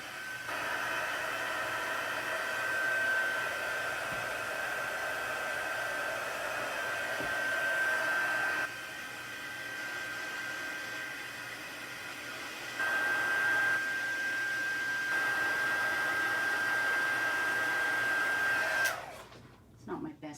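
A heat tool blows steadily for embossing, giving a loud, continuous whooshing hiss with a faint high whine that shifts slightly in level before cutting off near the end.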